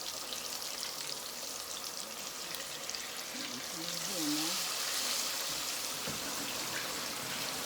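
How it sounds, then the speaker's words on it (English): Food deep frying in hot oil gives a soft, steady hiss and sizzle that swells slightly partway through, while a person talks nearby. "I'm going to put it in. Yeah, buddy. And let it fry."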